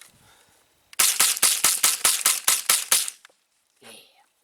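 Rapid string of about nine loud, sharp gunshots from a Mossberg 702 semi-automatic rifle, evenly spaced across two seconds, close to the listener, then quiet with faint talk before and after.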